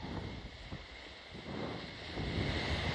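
Sea waves rolling onto the beach at Seaham under gusting wind, a continuous surf roar with soft swells and buffeting wind noise that grows a little louder toward the end, no one speaking.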